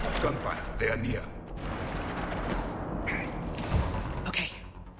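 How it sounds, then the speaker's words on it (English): Game gunfire in Mass Effect 3 sounds as dense, continuous battle noise, with muffled shots and thuds running throughout and a few sharper bursts standing out. "Gunfire. They are near."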